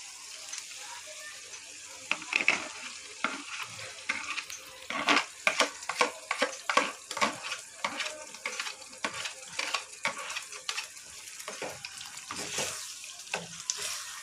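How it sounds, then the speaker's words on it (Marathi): Spinach paste with spices being stirred together in a pan for palak paneer, a soft sizzle under irregular wet scraping and spoon clacks, close up and fairly quiet. "पालकाची पेस्ट ती मस्त एकत्रित करून घेणार आहे, म्हणजे सगळे मसाले जे आहेत ते व्यवस्थित मिक्स झाले पाहिजे"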